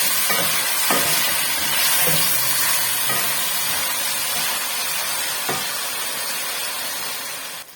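Mutton pieces for aloo gosht fry with garlic and ginger in a pot, giving a steady close sizzle broken by a few soft knocks from stirring, with no talking.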